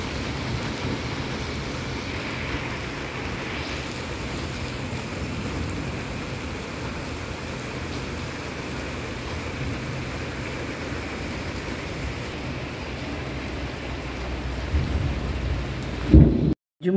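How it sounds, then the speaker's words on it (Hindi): Heavy rain pours steadily in cold weather, a dense hiss with soft low rumbles of thunder beneath, continuous and even until a brief louder knock right at the end. "काफ़ी ठंडा हो चुका है, काफ़ी तेज़ बारिश।"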